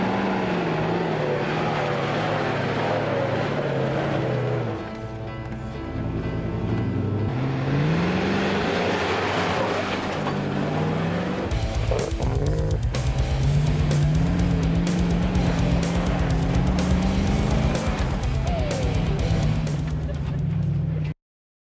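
A 4x4 off-road vehicle on mud terrain tires climbs a steep obstacle of loose sand, its engine droning and revving in rising and falling pitch for a long stretch, loud and close, with a brief dip partway through.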